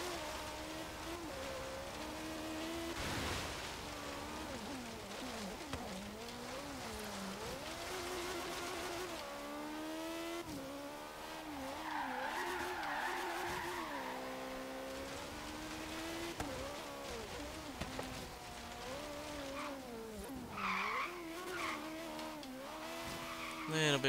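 A 2012 Hot Wheels Rip Rod in the Forza Horizon racing game, its engine droning and rising and falling steadily through an autocross run, with tire squeal and someone talking over the car throughout.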